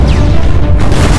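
A loud, booming explosion effect from an animated comedy movie trailer fills the short moment, a dense low rumble with crashing debris and no speech.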